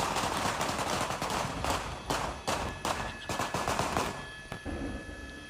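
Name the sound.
gunshots fired at police officers during standoff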